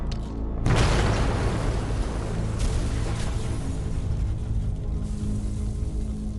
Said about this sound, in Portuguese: A explosão tem sucesso e causa o colapso do setor central da muralha norte do forte